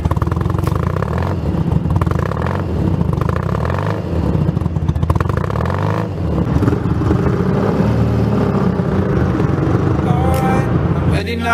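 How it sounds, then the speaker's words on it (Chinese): A twin-cylinder motorcycle engine runs loudly and close, its exhaust giving a steady, throbbing rumble with slight pulsing rises for the whole stretch. "给大家听一下发动机声浪"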